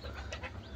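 A mother hen with her newly hatched chicks makes faint, soft clucks and a couple of brief peeping calls, heard quietly over a low background hum.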